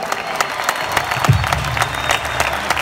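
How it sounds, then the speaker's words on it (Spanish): Audience applause filling the Auditorio Nacional during a big band show, a steady crowd clapping with scattered cheering that holds at an even level throughout. "Por favor, denle un aplauso a la administración de este hermoso lugar."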